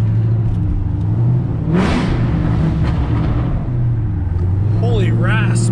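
A 5.0 car at full throttle gives a loud, rising engine roar that swells midway and holds as a strong rumbling drone, with people shouting and talking over it.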